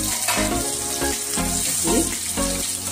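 Stuffed bitter gourd (karela) fries in a pan while it is stirred and turned, giving a steady close sizzle broken by the repeated scrape and clatter of a utensil. Tonal hum and clinks run beneath it, and no one speaks.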